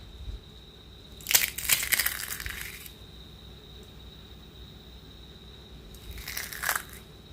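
Crispy thattai, a Tamil rice cracker, snaps and crumbles in two separate bursts of dry, crackly crunching with a quiet pause between them, close and with no talking.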